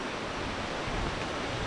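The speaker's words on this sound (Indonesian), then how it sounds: "itu suara air terjunnya" A steady, dense rush of falling water from Gitgit waterfall in Bali, constant and enveloping with no pauses, heard from close by.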